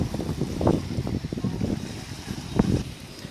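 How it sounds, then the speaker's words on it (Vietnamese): Sea waves wash and murmur against a rocky shore at Vung Tau, near seafood-farming rafts, in an uneven, rolling rush of surf mixed with gusting wind noise, with one sharper splash toward the end. "đây tiếng sóng biển rì rào"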